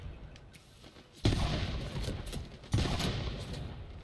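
Turret gunfire in the game Tiny Tina's Wonderlands, heavy bursts of rapid fire that start abruptly and roll on loudly, dropping briefly before a second sustained burst and a final hit, with no talking.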